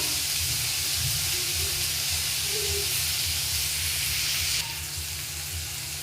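Tomatoes soften in a pan over a low gas flame while preparing dried shrimp, giving a steady close hiss and sizzle that eases slightly near the end, with no talking.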